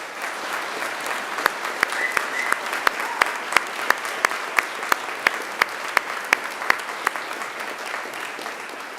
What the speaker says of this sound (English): And now it's time to give them a mighty round of applause.